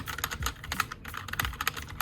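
Rapid clattery typing on an old computer keyboard with wobbly keys, close up, irregular keystrokes tapping continuously for a couple of seconds with no speech.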